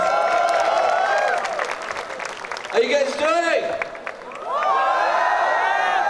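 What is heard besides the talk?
audience applause and cheering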